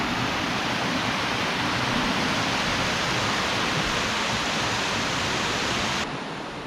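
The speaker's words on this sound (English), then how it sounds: "You can see a little bit of the upper cascade right there." Upper cascade of MacGregor Falls, a dense, steady roar of rushing water filling the whole stretch, loud and close with no voices, easing slightly at the very end.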